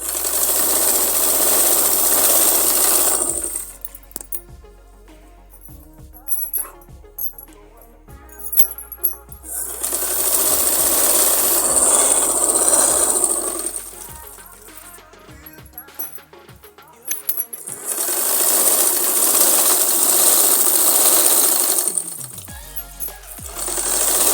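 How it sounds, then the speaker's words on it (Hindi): Sewing machine stitching along the edge of a ponche fabric piece, running in three long loud bursts separated by quieter pauses filled with small clicks and handling sounds. "बिल्कुल साइड से हमने सिलाई लगानी है ताकि हमारे पोंचे में फिनिशिंग आए"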